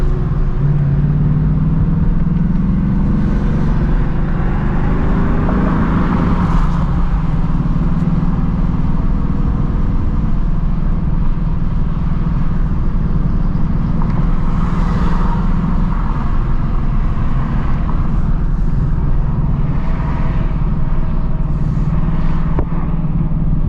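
A 2024 Mustang GT takes off hard, heard from inside the cabin as a loud, continuous engine roar with rising pitch sweeps as it accelerates, and no talking.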